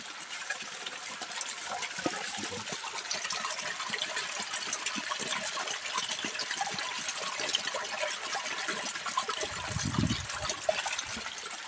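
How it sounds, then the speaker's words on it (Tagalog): A small stream flows steadily beside a path to a farm field, a close, even rushing hiss of water that carries on without breaks and without any voices. "Nag-agas ang sapa."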